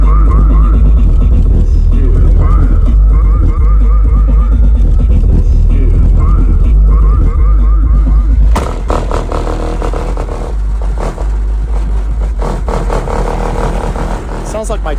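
A car trunk buzzes and rattles under heavy subwoofer bass from a JBL Stadium 3-way and Death Row 12-inch setup, a loud, constant low booming with clattering vibration, shifting to a rougher texture partway through.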